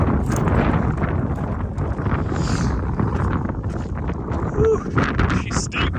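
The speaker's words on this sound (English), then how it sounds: "And it's windy as hell." Strong wind buffets the microphone in a constant roaring rumble on a steep trail in Moab, with faint voices underneath.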